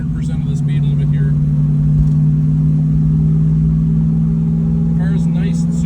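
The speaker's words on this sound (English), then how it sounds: "It's just badass muscle car. And tootling along in fourth gear here." Muscle car engine cruising steadily in fourth gear, a loud, constant low rumble with a smooth droning tone held throughout, while a voice talks over it.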